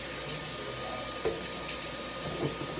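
Food sizzles in a frying pan in a home kitchen, a steady, faint hiss with a few soft pops and crackles, and no voices over it.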